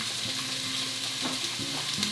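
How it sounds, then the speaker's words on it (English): Onions sizzle in a hot pan while pasta is being prepared, a steady close crackling hiss with a few brief clinks of utensils, and no voices. "So when I add the onions, it should start to sizzle right away."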